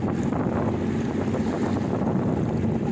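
A jet ski runs across open water with a steady engine drone mixed with spray, wind buffeting on the microphone and the splash of water, loud and continuous for the whole stretch with no talk.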